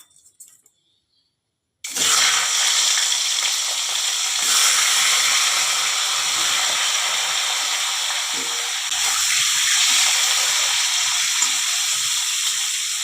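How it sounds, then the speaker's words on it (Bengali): Fish heads seasoned with salt and turmeric fry in oil for a Bengali moong dal, giving a steady, loud broadband sizzle that starts abruptly after a brief near-silent moment and holds evenly to the end, with no talking. "মাছের মাথাগুলো ভাজা হতে থাকুক"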